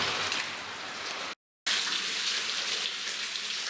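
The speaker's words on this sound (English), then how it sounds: "That's flowing pretty good, but looks like there's a lot of water in that section." Steady broadband rush of water pouring through a flooded section of an underground mine, continuous and fairly loud, with a brief dropout midway before the flow resumes unchanged.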